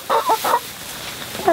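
Chickens cluck in a coop lined with fresh hay, with ducks sharing the space: a quick close burst of clucks for about half a second, then a quieter stretch of low barnyard murmur and a last cluck at the end.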